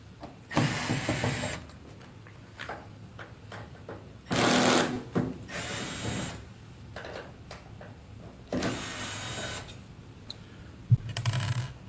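Power screwdriver removing four screws from the front bracket of an LG WM6998 combo washer/dryer, several whirring bursts of a few seconds each separated by pauses, with faint handling noise and clicks in between.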